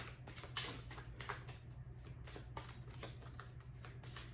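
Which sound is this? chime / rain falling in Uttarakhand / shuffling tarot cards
shuffling tarot cards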